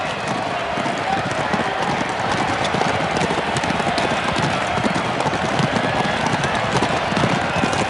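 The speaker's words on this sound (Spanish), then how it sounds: "la ciudad del Palio, una carrera de caballos que se celebra en la Piaggia del Campo" Horses gallop in the Palio race on Siena's Piazza del Campo, a dense, continuous drumming of hooves with a busy crowd roar mixed in, loud and steady throughout.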